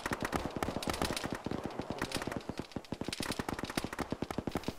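Heavy gun hammering out rapid automatic fire in the military game Arma during a ShackTac session, a long sustained stream of sharp shots, loud and close with slight gaps between bursts.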